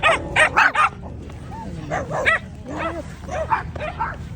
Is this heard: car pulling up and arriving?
no